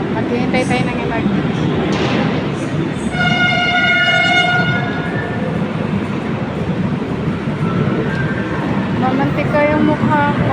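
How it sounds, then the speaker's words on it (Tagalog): A light rail train rumbles steadily into a station, its horn sounding in a sustained blast partway through, while people talk nearby. "So guys, ayan na yung LRT."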